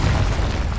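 Incendio fire spell cast in Hogwarts Legacy, a loud, dense burst of roaring flame with heavy low rumble sustained for under a second.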